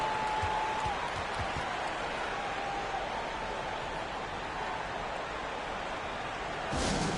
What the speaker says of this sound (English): Show some love and clap your hands.